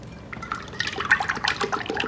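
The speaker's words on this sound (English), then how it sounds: "And you pour that right into your mixer." Heavy cream pours into a mixer bowl for a tres leches cake, a close, splashy liquid stream with gurgling and dripping that builds over about two seconds, with no talking.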